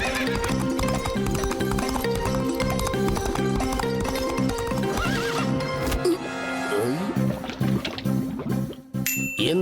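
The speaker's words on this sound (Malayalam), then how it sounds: "കുതിരയുടെ ഫുഡ് സ്റ്റെപ്സ്" A cartoon horse neighs and whinnies over quick clip-clop hoofbeats with a bright jingle, the galloping loud and continuous before a final high whinny and a trailing ding near the end.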